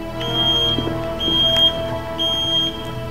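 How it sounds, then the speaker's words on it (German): A hotel-room smoke detector at night sounding a high, thin electronic beep roughly once per second, three evenly spaced chirps, loud and close over a low indoor hum, with no one speaking. "Das ist nur der Rauchmelder."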